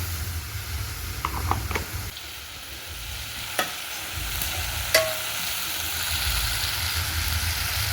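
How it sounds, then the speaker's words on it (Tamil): Onions and squid cook in a pan over an outdoor fire, giving a steady close sizzle with a few clacks from stirring and a low rumble underneath. "இப்போ வெங்காயம் நல்லா வேகமும் கனவாயை போட்டு வேக வைக்கணும்"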